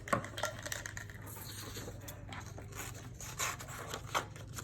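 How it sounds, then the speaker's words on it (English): Several sharp snips and small clicks of scissors cutting paper for origami at an uneven pace, close by and fairly quiet, with light handling noise between cuts. "And then I'm gonna grab my scissors."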